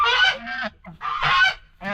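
Geese honking loudly and close on a farm, two long harsh nasal honks in quick succession with a third starting at the end, no talk over them.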